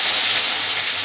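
Chicken dropped into hot oil gives off a brief, steady, loud hiss of sizzling, heard close and alone.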